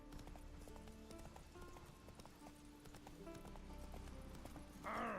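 Horse hooves clip-clop at a steady trot in The Witcher 3, a regular faint rhythm under game music, ending with a short whinny.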